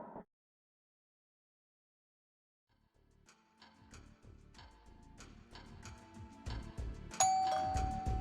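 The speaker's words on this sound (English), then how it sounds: "Ding dong." A doorbell chimes in the video game The Silver Case, emerging after a silent stretch as a series of ringing electronic tones that build in loudness and density toward the end.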